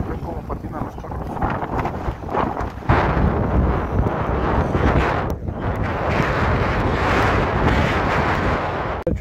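Wind of a snowstorm blasting at the microphone in heavy, continuous gusts with loud rumbling buffets, steady and close throughout.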